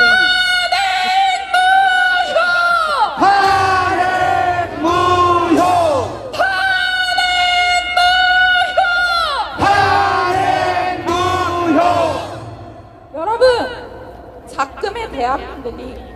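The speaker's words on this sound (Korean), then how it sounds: "연설을 시작하기에 앞서 구호 한번 외치고 시작하겠습니다" A large crowd at a political rally shouts a slogan in unison, loud repeated rhythmic chants of many voices that rise and fall in bursts, ending in scattered cheers and yells.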